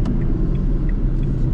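Trucks rumble in slow road traffic, heard from inside a rented car: a steady, close, low-pitched engine drone that holds without a break, with no voices over it.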